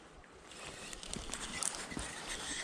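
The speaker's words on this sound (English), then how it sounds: "Very, very fast flowing water here." Fast-flowing water rushes along the River Swale, a continuous broadband roar and splash close by, with small surges and no talking.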